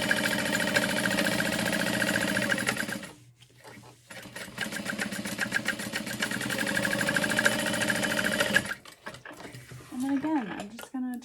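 A sewing machine bastes along the outside edge of a fabric bag, running in loud rapid stitching bursts with a brief pause midway, then stopping as a voice speaks near the end.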